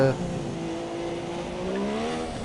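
A race car engine in the F1 2017 video game at the China circuit during a league race holds a high, steady whine with shifting pitch tones, while a voice talks underneath.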